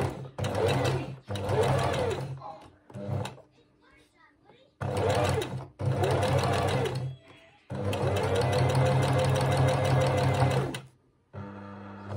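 A sewing machine runs in three long bursts at a short stitch length, each a steady, dense mechanical whirr close to the mic with brief pauses between them.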